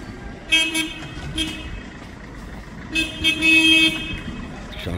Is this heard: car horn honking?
yes